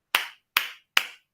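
Three crisp hand claps on a talk show, evenly spaced and close, each sharp and quickly fading, with silence between them and no voices.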